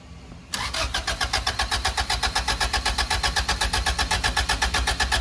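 The engine of an LS VTEC Honda Civic cranks after a jump start, sounding as loud, close, rhythmic pulses that repeat evenly for nearly five seconds without a clear catch.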